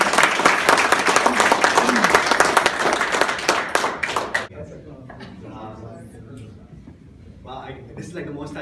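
An audience applauds a departing manager at a farewell gathering, loud dense clapping for about four seconds that stops abruptly, followed by quieter room sound with a voice speaking.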